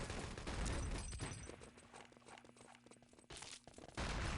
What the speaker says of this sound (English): Going to be taking out DeadZet with the artillery